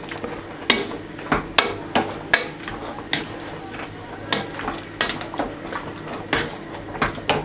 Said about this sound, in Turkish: Önce patates eziyorum